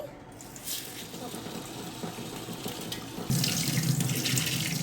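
Rice is rinsed in a kitchen sink under a running tap, a steady close stream of water that turns louder and heavier near the end.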